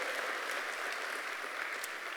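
A church congregation claps during a sermon, a thick, even wash of many hands applauding without pause through the whole brief moment, with no voices standing out.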